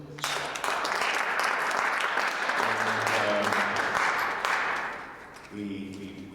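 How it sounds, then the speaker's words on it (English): An audience gives a round of applause at a gathering, a steady wash of many hands clapping at moderate volume for several seconds, with voices and a humming tone underneath and a fade near the end. "Let's all give him a round of applause"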